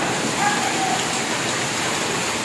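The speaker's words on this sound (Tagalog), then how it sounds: "sa so wakas mga boss, umulan na" Steady rain falls on a farm after a long hot spell, a dense, even hiss of drops on surfaces that stays constant throughout with no pause.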